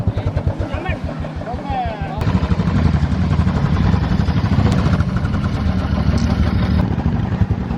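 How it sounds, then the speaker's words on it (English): A Royal Enfield Classic 500 motorcycle struggles in deep sand on an off-road ride near Dabbaguli, its engine thumping in a steady low rhythm before revving up into a loud, sustained strained drone. "He's struggling a lot to get it out from the sand. The Royal Enfield Classic 500."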